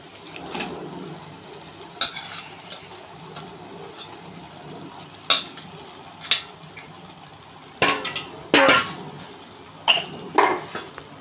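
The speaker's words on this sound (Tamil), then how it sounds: "மிக்ஸ் பண்ணிவிட்டு கழுவி க்ளீன் செஞ்சு நறுக்கி வச்ச நம்ம குடலை சேர்க்குறோம்" Cleaned, cut mutton intestine for a home-style kudal gravy is stirred in a pan, with scattered metallic clanks and scrapes of a spoon against the pan over a low, quiet background.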